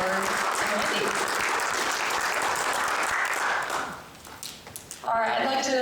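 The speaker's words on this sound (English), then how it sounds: "let's give one more round of applause for our panelists, Brittney, Becca, Howard, and Wendy." Audience applause for the panelists at the close of a civic literacy and democracy event, a dense sustained clapping that fades after several seconds before a voice begins speaking.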